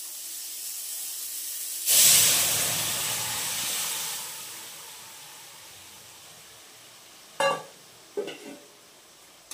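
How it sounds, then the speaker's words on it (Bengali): Dal (lentils) poured into a hot pan with stirred mango bursts into a loud, sudden sizzle that slowly fades into a long, softening hiss, followed by a few sharp clinks of utensils near the end. "এবার আমি ঢেলে দেবো হচ্ছে ডালটা।"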